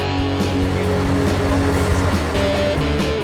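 Seven heavy trucks push and pull together to haul a 377-foot convoy carrying a giant transformer up hills, giving a loud, steady diesel engine drone with deep rumble throughout.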